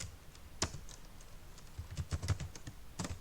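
Typing on a computer keyboard during a Python programming session: quiet, irregular key clicks, some single taps and some quick clusters, close to the microphone with no talking.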